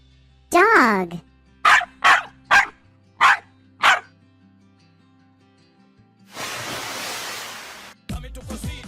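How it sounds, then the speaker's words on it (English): A cartoon farm dog in a children's animal song gives five sharp, loud barks in quick succession after a drawn-out vocal call, followed by a hissing burst of noise. "Dog."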